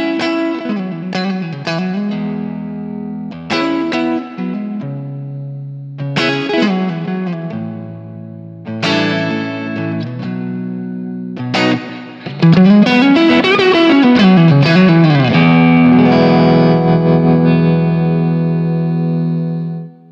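A Fender Stratocaster electric guitar played through distortion rings out in separate struck chords and notes with sustained decays, then builds into a denser, louder strummed passage that holds to the end, close and without voices.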